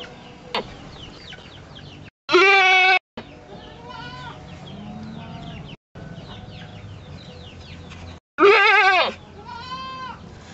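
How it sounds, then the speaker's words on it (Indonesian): Two loud, harmonic bleats from an Etawa goat at a milking pen, each about a second long and close by, separated by quieter background noise with faint farmyard sounds. "Betulnya ini kambing yang kita mau perah ini sudah diperah tadi pagi."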